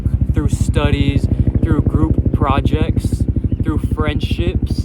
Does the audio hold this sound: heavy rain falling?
no